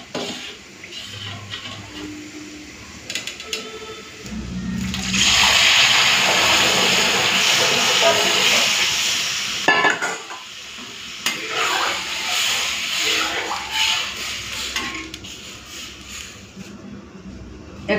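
Dal is tipped into a pan of fried onions, bursting into a loud hissing sizzle that holds for several seconds, then settles into softer frying with utensil scrapes and clinks of stirring in a home kitchen.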